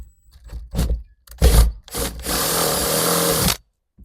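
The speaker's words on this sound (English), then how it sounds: "now we're going to grab our 1/2-inch drill bit and go right in the middle of the square hole" A drill with a 1/2-inch bit boring a hole in a sub box mounting kit for a 4th gen 4Runner, short starting bursts followed by a sustained loud whirring grind that stops abruptly, close up.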